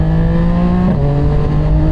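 A CFMOTO 675SR motorcycle engine with a KO Lightning full exhaust. It gives a loud, steady drone that dips slightly in pitch partway through and runs throughout without talk.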